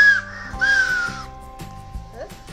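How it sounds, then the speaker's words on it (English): A toy whistle from a kids' camping set is blown in two shrill, wavering bursts, each about half a second long, followed by quieter knocks and thumps. "It was a whistle."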